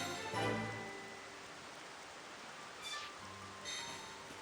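Rain falls in the video game Xenoblade Chronicles, a soft, steady hiss with faint game tones and a few gentle swells over it.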